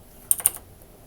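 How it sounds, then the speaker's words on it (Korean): Keyboard arrow keys pressed while editing a PowerPoint slide, three quick light clicks in close succession, near and crisp in an otherwise quiet room. "키보드의 방향키를 이용해서 이와 같이 맞춰 주시면 됩니다"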